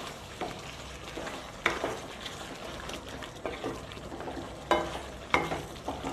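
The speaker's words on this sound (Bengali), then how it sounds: "এবার বানিয়ে রাখা কাজু চারমগজের পেস্ট দিয়ে দেব। ভালোভাবে মিশিয়ে নেব।" Cashew and melon seed paste is stirred into a frying desi chicken curry, with soft sizzling under repeated spoon scrapes against the pan, close and moderately quiet, with no talking.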